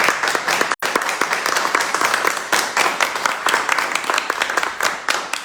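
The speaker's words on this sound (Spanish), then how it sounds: "quiero que les demos un fuerte aplauso" Museum lecture audience giving a speaker a warm welcome with applause, loud close clapping with distinct individual claps in a lively rhythm and a brief dropout near the start.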